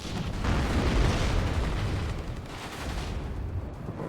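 Rocket explosion in the war game WARNO, a broad rumbling blast that swells loudly and decays into a long noisy roar, heard alone without voices.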